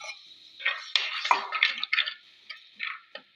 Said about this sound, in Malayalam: ഇതിലേക്ക് കുറച്ച് വാളംപുളി ഒഴിക്കുന്നുണ്ട്